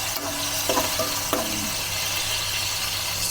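Chicken fat sizzling in oil as it renders in a pan for monggo, a steady close frying hiss with a few scraping stirs near the start, no speech.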